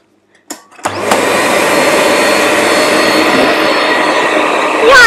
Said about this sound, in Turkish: Yani 899 wattlık bir elektrik süpürgesi.